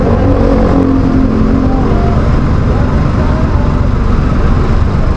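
Dense road traffic on Maharlika Highway in the early morning, a steady loud rumble and whir of engines filling the whole stretch with no break.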